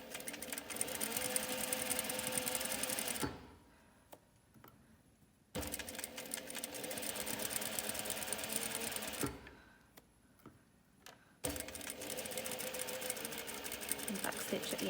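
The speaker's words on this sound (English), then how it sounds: "So we're going to do a back stitch as well" Sewing machine back stitching a run and fell seam, three bursts of fast, close mechanical whirring and needle chatter separated by short quiet pauses.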